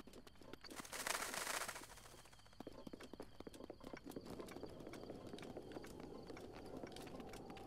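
Steady clip-clop of horse hooves trotting over ground in The Legend of Zelda: Breath of the Wild, a continuous rhythmic patter at moderate level, with a brief rushing burst near the start.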